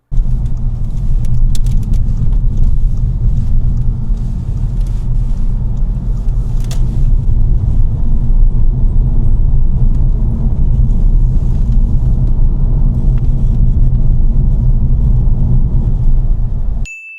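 A learner driver's car travelling on a 60 mph road, heard from inside as a steady, loud low rumble of engine and road noise that continues without a break throughout.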